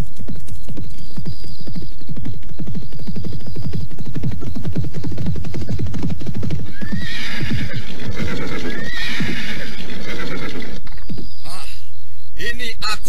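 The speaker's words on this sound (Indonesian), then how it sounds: "Siapa itu yang berkuda kemari?" A ridden horse approaches with loud, rapid clip-clopping hoofbeats up close, then whinnies as it pulls up near the end.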